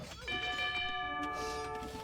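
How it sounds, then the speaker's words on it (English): Town bell in Age of Empires rings out as a sustained metallic tone with bright overtones, sounding clearly for most of two seconds over low game ambience. "town bell again"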